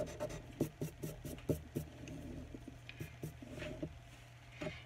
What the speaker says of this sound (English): I'm going to round this off and erase my lines in the middle.